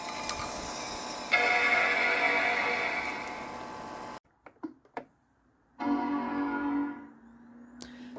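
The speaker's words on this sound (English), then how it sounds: "these Tanzania-based systems is that they have a slightly different chime." A Power Macintosh 4400/200 startup chime rings out as a single short tone, following an earlier sustained hum and a few clicks, clear and close in a quiet room.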